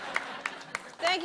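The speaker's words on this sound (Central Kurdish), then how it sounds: "ئەو چەپڵە ڕێزانەم پێخۆشە." A few sparse, separate claps from an audience, three distinct hand claps spaced evenly and fairly quiet, followed by a voice speaking at the end.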